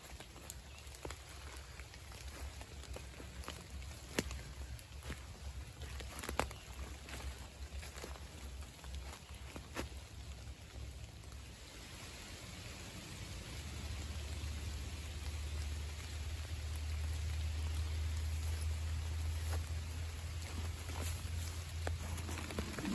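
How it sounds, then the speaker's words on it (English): Rain falls steadily in the woods during a hike, a soft continuous patter with scattered louder drips and a deeper, steadier wash of water building in the second half. "As the rain continues, I am heading into the woods to make a campsite."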